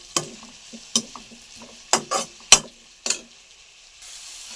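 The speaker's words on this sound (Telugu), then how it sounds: "కొంచెం పసుపు వేసుకొని బాగా ఉడకనియాలండి." Drumstick leaves and fresh grated coconut cooking in a pan, giving a soft continuous sizzle broken by several sharp scraping stirs and clinks, close and moderately loud with no talking.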